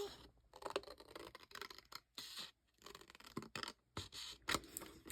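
Scissors cutting paper for a craft tag, close and quiet: a series of short crisp snips and rustling scrapes in uneven bursts separated by brief silences.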